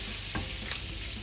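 Garlic frying in a pan for vegetable fried rice gives a steady sizzle, with a couple of brief stirring scrapes in a short stretch and no talking.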